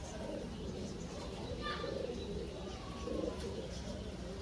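Pigeons of the Gola breed coo softly in a loft in Howrah, Kolkata, their low murmuring calls continuous and fairly faint, swelling in a couple of gentle bursts against a steady background hum.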